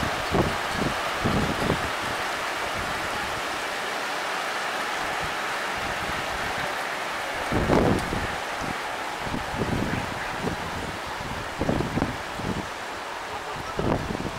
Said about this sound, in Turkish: Şiddetli bir yağmur başladı.